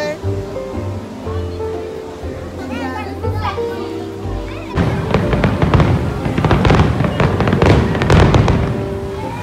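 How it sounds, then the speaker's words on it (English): Fireworks at Disneyland burst and crackle in a dense run of booms through the second half, after children's chatter and playful voices with a steady background wash. "Let's look at the fireworks."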